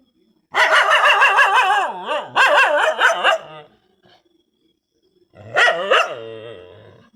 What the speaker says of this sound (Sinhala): ඔන්න අපේ බව්වත් බුරනවා.